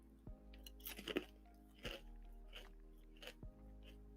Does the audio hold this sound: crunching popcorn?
yes